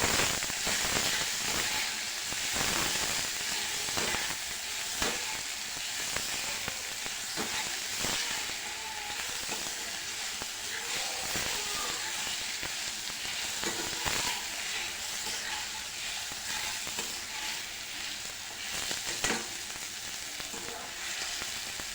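Chopped tomatoes sautéing in hot oil in a pan for a Marathi dried-fish sukat dish, a steady close sizzle with crackling pops and occasional stirring scrapes throughout.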